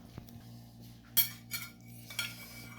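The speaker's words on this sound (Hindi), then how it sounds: "चलो अब मैं चम्मच से उठा के दिखाती हूँ आपको।" A spoon scrapes and clinks against a dish while scooping out bun pizza made with eggs and cheesy sauce, giving a few soft, close taps and scrapes in a quiet room.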